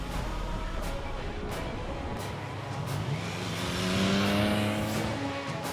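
A Triumph Tiger 660 motorcycle engine revs up and down. It climbs to a louder, rising pitch near the end. Several quick sharp ticks sit over the steady motor drone, and no one speaks.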